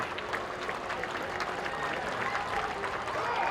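Home baseball crowd at a Jackson Rockabillys game cheering and clapping, steady dense applause with scattered shouts, holding strong for the whole stretch.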